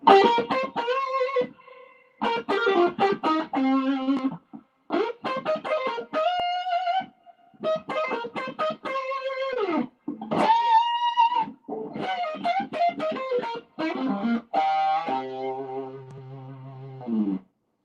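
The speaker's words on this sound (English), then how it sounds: "Now I'm going to kick on the fuzz." Gibson electric guitar through a fuzz pedal, reverb tank and amp plays a series of gritty, saturated, compressed phrases and sustained notes, loud and close, with brief pauses between licks.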